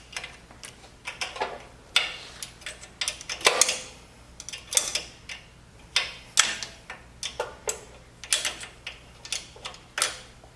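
A ratcheting wrench backs out exhaust manifold bolts in a repair shop, giving short repeated metallic clicks in uneven bursts, close and fairly quiet.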